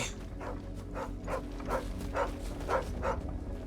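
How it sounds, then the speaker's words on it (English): A dog in Final Fantasy XVI gives a steady series of about eight short barks or yips, evenly spaced and moderately close, over a low ambient game hum. "Dog?"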